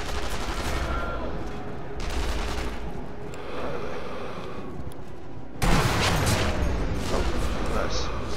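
Gunfire in Sniper Elite V2 rattles in dense, continuous bursts, growing louder and sharper partway through, with voices talking over the shooting.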